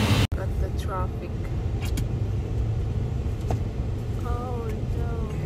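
Road traffic with cars driving past, a steady broad rumble of engines and tyres that carries on throughout, with faint voices and brief higher sounds mixed in.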